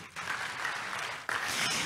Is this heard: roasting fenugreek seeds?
no